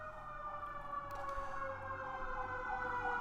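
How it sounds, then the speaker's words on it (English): An emergency siren wails steadily at a moderate distance, its tone holding with slight rises, over low traffic rumble. "There's a siren going by"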